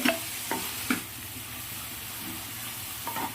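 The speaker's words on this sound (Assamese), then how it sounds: "পিঁয়াজ দি ভাজিছোঁ" Onions fry quietly in a pan with a soft, steady sizzle, broken by a few clinking stirs.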